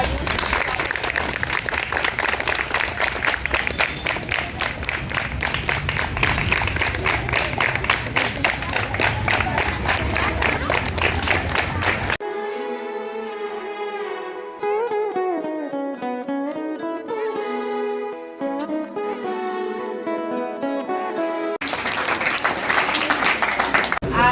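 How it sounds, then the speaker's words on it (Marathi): Applause from school students and teachers during a school educational trip event: dense clapping for about twelve seconds gives way to music, then the clapping returns near the end. "सर्वांनी जोरदार टाळ्या"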